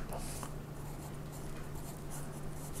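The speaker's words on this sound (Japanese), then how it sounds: "最後このラベルの文字だけもうちょっとちゃんと書いておきましょうか。" Pencil scratching label letters onto drawing paper during a still-life sketch of a tea bag, a soft continuous hiss of graphite strokes under a steady low hum.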